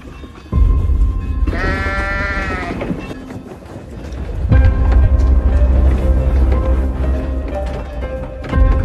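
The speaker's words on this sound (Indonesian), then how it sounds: "Saat domba-domba ribut dan panik" Sheep bleat in panic inside a pen, several loud wavering cries close by, rising over a heavy low rumble and a busy backdrop that also carries music.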